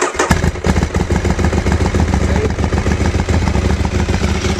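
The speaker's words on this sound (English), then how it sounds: "I'm going to start it up now because it'll be interesting." A Ducati 1198S motorcycle engine cranks, catches and settles into a loud, rough, continuous idle close to the microphone.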